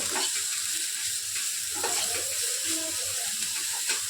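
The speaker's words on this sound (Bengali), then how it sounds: "মশলাটা একটু ভাজা করে নেব" Steady, loud sizzling of spices frying in a hot pan, with occasional stirring scrapes and no talking.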